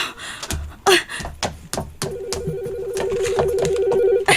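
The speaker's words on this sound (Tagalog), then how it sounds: "May bagti ng telepono." A telephone rings with a steady electronic warble that starts midway and continues, preceded by scattered knocks and breathy sounds.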